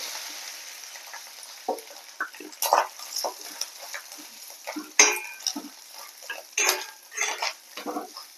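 Grated coconut being fried and stirred in a pan for an Onam curry of raw banana and yam, with repeated scraping and clinking of a spoon against the pan over a soft sizzle.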